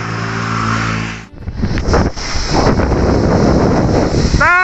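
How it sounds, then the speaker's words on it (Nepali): Strong wind roars and buffets the microphone on a solo motorbike ride to Shailung. A low engine hum is heard first, then steady loud gusting rush takes over, with a brief rising tone near the end. "आनन्दले एकछिन बस्नलाई सर्रा हावा चलिरहेछ"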